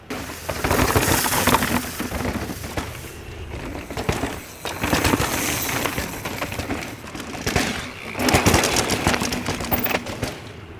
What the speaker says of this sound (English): You can really hear the rims and tires are smashing the ground here.